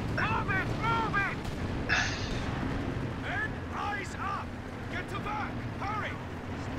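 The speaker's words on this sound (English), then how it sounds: "I missed almost all my rockets" Rockets firing in the World War II strategy game Company of Heroes 2 at the Port of Hamburg, a run of bursts mixed into dense battle noise and rumble, with someone talking over the action.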